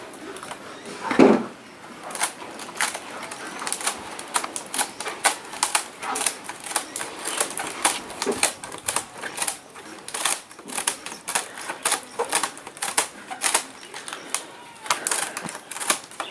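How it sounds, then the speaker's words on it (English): Tin snips cutting through a roofing sheet at a house under construction, a long series of sharp, fairly close metallic snips and crunches in an irregular rhythm, with no talk over them. "So the answer is tin snips, and they do the job perfectly."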